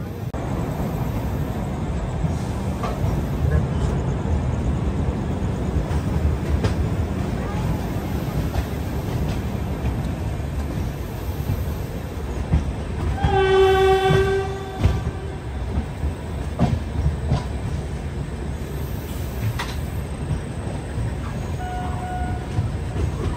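The Andhra Pradesh (AP) Superfast Express pulls away from Visakhapatnam Junction with a steady rolling rumble and rattling carriages, and a long horn blast sounds midway.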